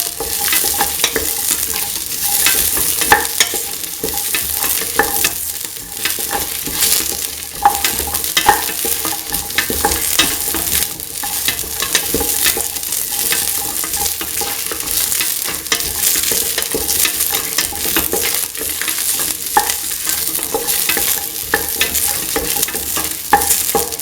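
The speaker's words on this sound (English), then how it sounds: "Saute." Shallots sautéing with salt in a pan for a lentil, ivy gourd and coconut milk stew: loud, constant crackling sizzle with busy spatters and occasional stirring scrapes, close up and unbroken, with nobody talking.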